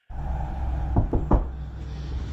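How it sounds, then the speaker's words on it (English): Three deep, booming knocks on a door, evenly spaced and close to the microphone, over a low steady background hum. "When you hear the knocking on the door is very like deep"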